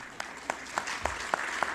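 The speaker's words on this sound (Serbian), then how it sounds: "Da, aplauz." Faint applause at a book promotion event, heard as a handful of separate, evenly spaced claps in a quiet room rather than a full round.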